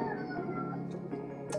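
A pet cat meows close by indoors, one drawn-out whining call that rises at the end, fairly clear against a quiet room.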